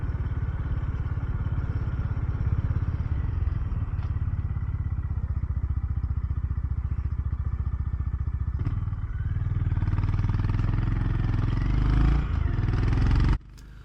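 A Honda GB350S single-cylinder motorcycle thrums along at low speed in third gear on light throttle, a close, steady, smooth engine beat with wind rumble that swells slightly before cutting abruptly near the end.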